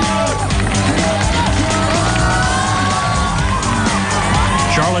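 A dense crowd cheers and shouts steadily at the Ironman China 2009 triathlon finish near People's Park, loud and continuous with whoops and an announcer's amplified voice woven through.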